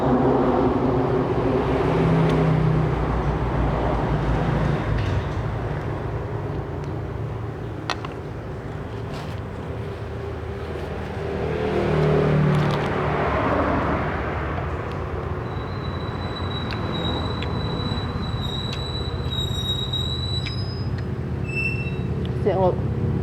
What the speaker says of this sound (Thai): เสียงรถ